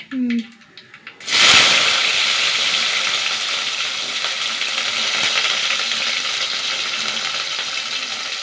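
Small shallots dropped into hot oil, a sudden loud hiss that settles into a steady, close sizzle, with a brief clatter just before.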